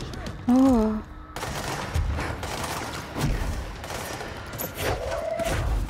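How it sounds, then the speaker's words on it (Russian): Gunfire in the video game Control: scattered shots and thumps run through a busy game soundscape, with a tonal synth effect near the start, while someone talks over it. "Кто-то стреляет."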